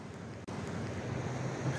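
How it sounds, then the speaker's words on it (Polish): Sea waves wash against the rocky shore at Alicante, Spain, a continuous low surf rumble mixed with wind noise, with no voices. "Słuchać fal morza."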